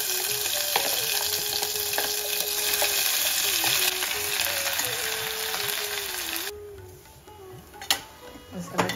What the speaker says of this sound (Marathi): मसाला छान परतून झाला आहे आपला आणि तेल पण सुटलेलं आहे।